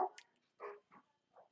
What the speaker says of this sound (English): you're about to hear my dog go nuts